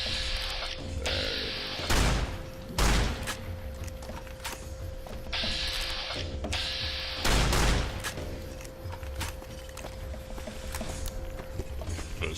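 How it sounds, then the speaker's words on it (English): Gunfire in a heavily modded Fallout New Vegas playthrough: a few separate loud shots spaced seconds apart over a steady mechanical hum and clattering game ambience, with no talk. "Just gonna pop off a few rounds into its skull, no biggie."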